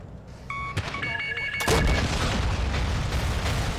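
Missiles in Call of Duty: Modern Warfare hit with a heavy boom that sets off a deep, rumbling roar, preceded by a few electronic beeps, while someone talks over the action.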